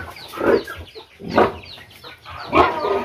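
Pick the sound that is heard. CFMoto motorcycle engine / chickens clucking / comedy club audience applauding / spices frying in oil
chickens clucking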